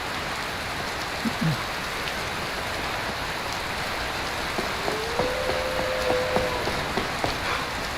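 Steady rain falls in the game Skyrim, a dense, even hiss across the whole stretch, with a faint distant animal-like call and a brief tonal wail rising near the end.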